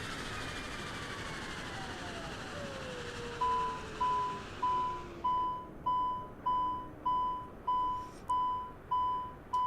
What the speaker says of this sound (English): And we get more beeps and bobs.